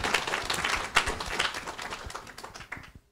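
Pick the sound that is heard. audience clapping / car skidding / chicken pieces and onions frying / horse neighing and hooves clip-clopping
audience clapping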